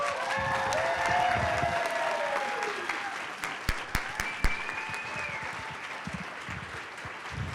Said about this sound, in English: Let's give them a big old round of applause.